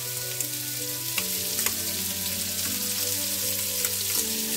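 Onion frying in oil and butter in a saucepan, an even, crackling sizzle that holds steady, with faint ticks and pops and a sustained tonal hum underneath.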